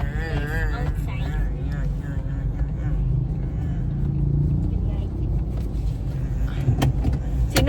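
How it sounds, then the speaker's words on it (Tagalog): A car moving through road traffic, with a constant low engine and road rumble and a brief swell partway through, while people talk inside the car over it. "we hit traffic like this outside"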